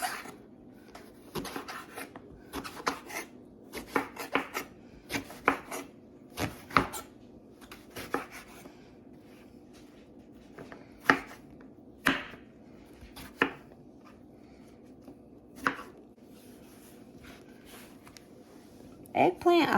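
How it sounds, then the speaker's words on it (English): A knife chops vegetables such as eggplant on a cutting board in a home kitchen, sharp irregular clicks in bursts with pauses, close and clear beneath someone talking. "I am going to start chopping up my veggies."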